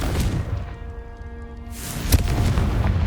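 The Confringo explosive spell in Hogwarts Legacy lands as a heavy, booming blast with a low rumbling tail and a sharp crack of impact partway through, loud and alone.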